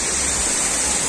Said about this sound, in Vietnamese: Suối